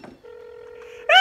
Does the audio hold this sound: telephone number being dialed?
yes